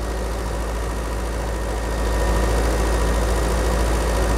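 A Citroën 2CV engine with a different carburetor idles steadily just after starting, a close, continuous low mechanical chug with a slight rise in loudness partway through, and no talking.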